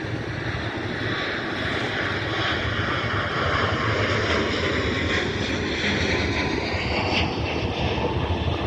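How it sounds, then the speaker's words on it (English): An Airbus A321neo jet taking off gives a loud, steady engine roar that holds without a break for about nine seconds. "Yep, the A321neo is taking off."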